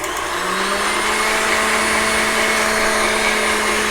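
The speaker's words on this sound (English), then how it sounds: "we're going to whisk that on high until we achieve stiff peaks" A stand mixer with a whisk attachment beats egg on high speed for tiramisu, making a loud, steady motor whine with a constant pitch, close up and with no voices.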